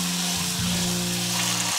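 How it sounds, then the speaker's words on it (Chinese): Marinated pork neck fries in an oiled pan over medium heat, giving a close, steady sizzle with a soft continuous crackle and no voices. "然后把腌制好的猪颈肉放上去，然后保持中火煎"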